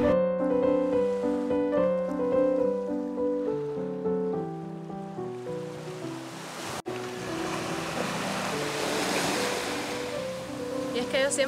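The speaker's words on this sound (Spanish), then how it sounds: "la playa de Varadero es una de las más limpias y pintorescas del mundo" Ocean waves wash onto Varadero beach as a steady broad rush of surf. Tonal music plays through the first half, and the surf continues on its own after it fades.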